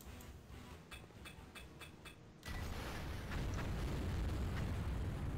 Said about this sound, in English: Damn, that's a good explosion.